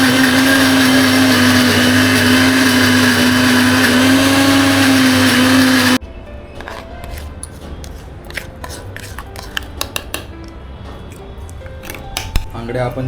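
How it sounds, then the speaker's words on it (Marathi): A mixer grinder whirs loudly and steadily while grinding leftover crab shells, then cuts off abruptly. Quieter clinks, taps and handling noises of kitchen utensils follow. "तर आता मिक्सर लावतो."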